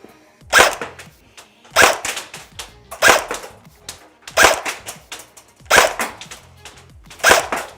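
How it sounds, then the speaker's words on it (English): Arcturus Centaur AK airsoft gun on a 7.4 volt battery firing six single sharp snappy shots at an even pace about a second apart, close and loud, with no talking. "Anyway, let's carry on firing."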